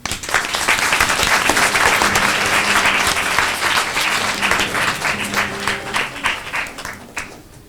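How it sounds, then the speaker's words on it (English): Pupils and audience at a Year 5 school assembly applaud two classmates with loud, dense clapping that swells early, then thins into scattered claps and fades near the end. "please give a round of applause to Emilio and Yuchen"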